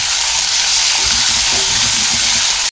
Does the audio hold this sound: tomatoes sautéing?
yes